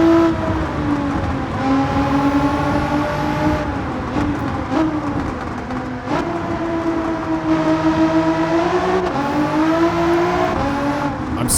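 A 933 bhp Nissan GT-R in the racing game Gran Turismo 7 drones loudly through sustained high revs, the engine pitch rising and dipping with gear changes and throttle lifts over several seconds.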